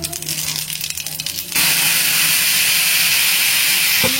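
Cumin seeds hit hot oil in a pan just emptied of fried fish, bursting into a loud, steady sizzling hiss that starts abruptly after a quieter stretch of kitchen noise and holds to the end.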